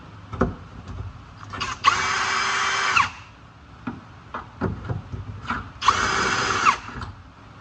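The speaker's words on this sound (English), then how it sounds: "we're gonna drill the holes in place right here" A power drill whines loudly in two bursts of about a second each, drilling holes in metal on a 1967-69 Camaro during a four-link suspension install, with knocks and handling clatter between them.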